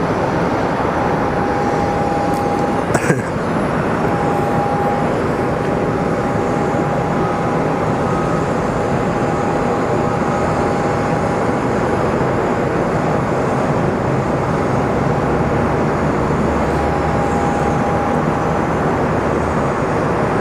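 Airplane starting its takeoff roll at Sky Harbor airport, a loud, steady engine roar that holds evenly throughout, with a thin whine running over it and a brief sharp knock near the start.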